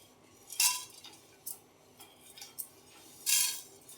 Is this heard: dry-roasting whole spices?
yes